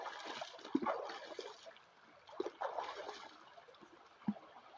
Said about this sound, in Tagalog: bali ayan nga pala naliligo na tayo dito sa sapa namin